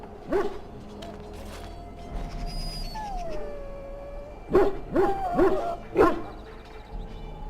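A dog in a pen in the video game Dragon Age: Origins whines and howls, then lets out a series of sharp, close barks and yelps near the end, with no speech over it.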